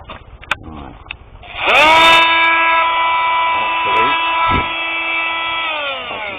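A Bosch Multitool 250 power tool spins up and holds a steady, loud high-pitched whine while sanding, and a person speaks briefly before it starts and again as it runs.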